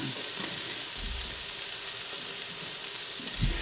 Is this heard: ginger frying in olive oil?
yes